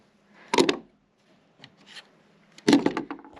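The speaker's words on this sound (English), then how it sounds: "Take off the clamps." Woodworking clamps come off tongue-and-groove boards after a ratchet strap is released, making two sharp wooden scraping clatters at the start and end with a soft rustle between them.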